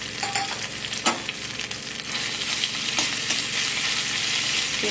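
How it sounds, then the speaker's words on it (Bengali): Cumin seeds, ginger and chopped green chili crackle in hot oil in a kadai, a constant dense sizzle with occasional spatula scrapes and taps against the pan. "নাড়াচাড়া করে ভেজে নেবো আদার কাঁচা গন্ধ চলে গেলে"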